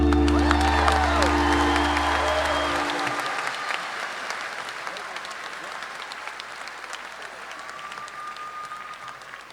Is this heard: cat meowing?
no